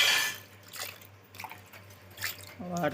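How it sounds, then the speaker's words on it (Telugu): Sorghum grains being washed: soft, intermittent splashing and sloshing of water at close range, with a voice starting to speak at the end. "తర్వాత జొన్నని కడగాలి. ఇట్లా కడిగితే అట్లా అయితే తెల్లగా అవుతాయి మంచిగా."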